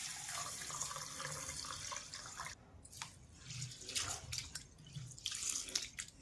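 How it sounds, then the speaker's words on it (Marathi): Basmati rice is washed in water for paneer pulao, a close, quiet swishing and trickling of water with a few drips and small splashes from handling the grains. "स्वच्छ धुवून घेणार आहोत आपण 2-3 पाण्याने"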